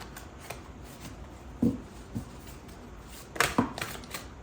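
Tarot cards being shuffled during a reading, heard as a few soft, quiet riffling bursts spread across a near-silent stretch, with two slightly louder flurries toward the end and no talking.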